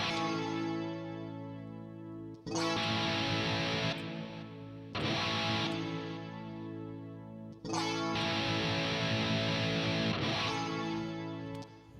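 Distorted electric guitar chords played through a Line 6 Helix ring out in sustained bursts, alternating with quieter held tones, loud and close.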